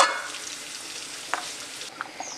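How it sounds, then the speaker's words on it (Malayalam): Fish curry in a thick coconut gravy with slit green chilies and tomato slices bubbles in a pan, a steady soft sizzling hiss with a few faint pops and clinks, fairly close and with no voices. "കറി നന്നായി തിളച്ച് ചാറെല്ലാം നന്നായിട്ട് കുറുകി വന്നിട്ടുണ്ട്"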